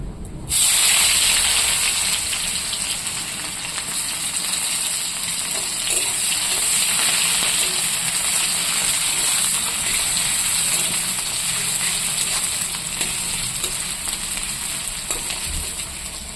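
Onions dropped into hot oil for a puna fish curry, sizzling in a steady, bright, hissing crackle that starts suddenly and stays loud and even throughout.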